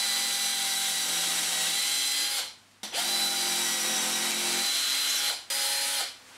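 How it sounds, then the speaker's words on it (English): A power drill whines at high speed in two long bursts, drilling holes in timber, winding down briefly between them, close and loud with no talking. "I'm going to drill 6 holes in this piece of timber"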